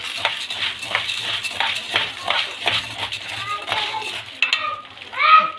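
Butter hits fried pasta in a pan after the oil has been drained, giving a steady sizzle with stirring and clinks, heard under a voice and children's chatter.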